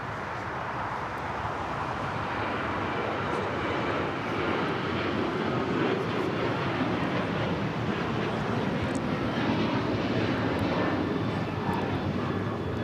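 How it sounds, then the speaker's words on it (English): An Alaska Airlines Boeing 737-900ER takes off at LAX, bound for Seattle. Its jet roar stays steady and loud throughout, with broadband rumble and some wind buffeting and no voices. "This is Alaska Airlines 1217 taking off to Seattle on the 737-900ER."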